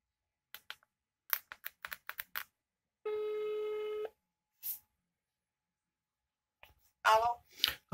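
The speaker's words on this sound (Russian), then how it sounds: "Сейчас мы позвоним и спросим, что нам скажут по этому номеру." A telephone number being dialed: a quick run of short keypad taps, then a steady one-second tone, a brief beep, and more clicks and a burst at the end, close and isolated in a quiet room.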